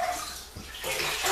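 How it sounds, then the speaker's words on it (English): Soapy water drains out of a basin used for cleaning a trumpet's parts, a steady close splashing and gurgling rush that swells louder toward the end. "And let the water run out."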